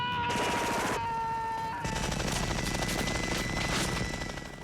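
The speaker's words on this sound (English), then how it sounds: "Shooting those many bullets coming through that gun," Rapid, loud bursts of machine-gun fire on the Predator film set, with a short pause after the opening volley before a sustained stream of shots starts up again and fades slightly at the end.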